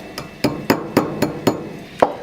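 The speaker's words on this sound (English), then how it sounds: "I'm going to use a smaller plastic mallet so I can actually see a little bit, and I hammer around there" A small plastic mallet strikes metal shaped around a ring mandrel, six sharp, close taps at a steady, slightly uneven pace with brief ringing, heard alone.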